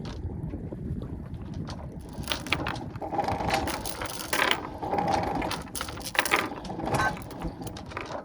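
Anchor chain hauled aboard a cheap project sailboat in the Bahamas, heard as clanking, ratcheting mechanical bursts and rattling links over steady water and wind noise, with louder surges mid-way.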